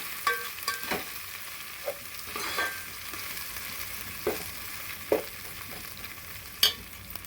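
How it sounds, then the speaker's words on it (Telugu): Spices for moong dal khichdi frying in a pan, a soft continuous sizzle broken by several sharp scraping stirs, fairly close but quiet. "ఇది పచ్చి వాసన పోయేదాకా కొంచెం వేపుకోవాలి"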